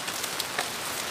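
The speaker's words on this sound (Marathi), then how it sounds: "पाऊस आहे, सगळ्यांनी रेनकोट घातले आहेत बघू" Rain falls steadily on surfaces along a highway outing near Panvel, a soft even hiss of drops heard briefly and alone.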